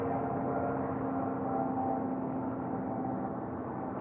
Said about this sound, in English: You hear that? Helicopters. They're always around.